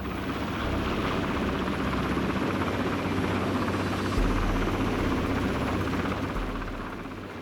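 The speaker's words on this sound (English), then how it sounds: "The rotors are just a few metres from the mountainside." A helicopter flies through a narrow pass in freezing mountains near Loch Lomond with its rotors a few metres from the slope, producing a loud, steady, close rotor and engine roar throughout, alone.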